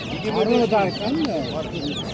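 Chickens cluck in short, close, overlapping calls at a busy Namangan bazaar poultry stall, with people talking over the birds.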